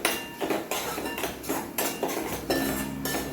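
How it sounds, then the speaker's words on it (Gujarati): A spoon scrapes and clinks against a pan while parwal kofta mixture is stirred in oil, giving repeated close metallic knocks and scraping strokes at a steady, roughly half-second rhythm over a faint background hiss. "હવે એને આપણે બરાબર તેલમાં હલાવી લઈશું."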